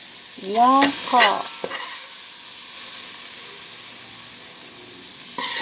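Minced beef cooking and being stirred in a warm pot for noodles, with a steady low sizzle throughout and a few brief scraping stir strokes near the start and end; no talk.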